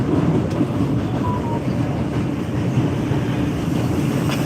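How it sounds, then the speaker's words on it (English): Steady low rumble of a commuter train in motion on the way to work, a continuous broadband drone with faint rattles, no talking. "So I'm on the train here going to work."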